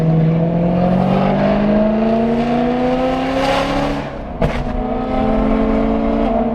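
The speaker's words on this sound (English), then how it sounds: "I can make it pop and bang on the upshift." A BMW E90 M3 with a loud exhaust climbs steadily in revs, then a sharp crack marks the upshift before the engine note rises again, close and powerful.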